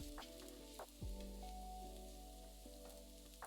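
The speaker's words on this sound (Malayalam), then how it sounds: "ഇത്രയും ഇട്ട് മസാലയുടെ പച്ചമണം മാറാൻ 1 മിനിറ്റ് വഴറ്റുക" Turmeric, chilli powder and fenugreek powder sizzle and fry in hot oil in a pan for a tomato fry, a steady close crackle with a few soft stirring scrapes and no talk.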